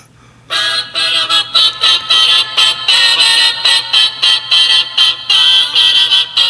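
A bright, tinny melody plays through a phone speaker in choppy repeated phrases, thin and lacking bass, with a faint low hum underneath.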